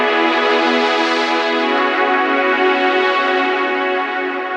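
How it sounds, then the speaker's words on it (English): A Jupiter 8 pad sound played on a Roland MC-101 groovebox as a sustained chord: a rich, steady, harmonically dense tone that holds evenly throughout with no talk. "here's a pad sound from the Jupiter 8"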